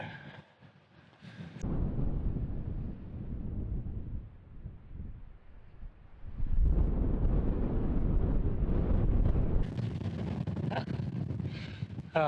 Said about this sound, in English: Trying to hide from the wind, it's not working.